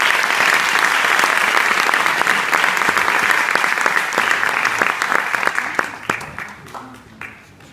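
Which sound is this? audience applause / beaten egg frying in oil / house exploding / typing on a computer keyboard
audience applause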